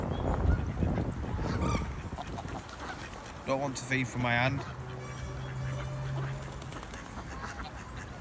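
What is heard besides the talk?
greylag geese honking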